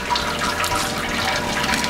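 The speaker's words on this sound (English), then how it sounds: "we're looking for 16 litres of sparge water." Sparge water for home brewing a Florida Weisse runs steadily from a tap or hose, a continuous broadband rush of water close by with no talk over it.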